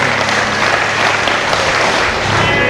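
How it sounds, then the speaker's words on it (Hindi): An audience at a satsang in the Faridabad ashram, Haryana, claps in sustained, even applause, loud and close, with no voices rising above it. "ताली तो बजा दो, इतने कंजूस"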